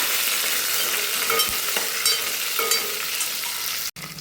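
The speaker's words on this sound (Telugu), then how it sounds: "పుదీనా యాడ్ చేసుకొని మిక్స్ చేసుకోవాలి" Mint stirred as it fries in a pan while dal thadka is cooked, a loud constant sizzle with scraping stir strokes mixed in and a brief drop near the end.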